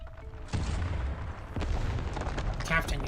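Heavy cannon fire in the video game Arknights, a series of deep booming blasts at about half-second and one-and-a-half seconds with rumbling tails, followed by a sharper crack near the end, loud and close with no talk.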